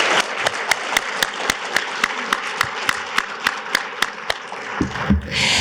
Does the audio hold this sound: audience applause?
yes